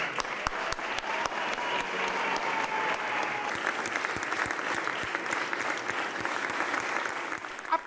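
Sustained applause from a crowd in a town hall for a newly installed mayor, steady and fairly loud throughout with sharp individual claps standing out, no talking.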